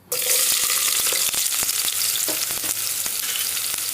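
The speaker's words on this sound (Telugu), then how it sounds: "సన్నగా కట్ చేసి పెట్టుకున్న ఆనియన్స్ని ఇప్పుడు ఈ ఆయిల్లో వేస్తున్నాను" Thinly sliced onions frying in hot oil for hotel-style chicken dum biryani give a loud, continuous sizzle up close, with scattered crackles and faint stirring clicks.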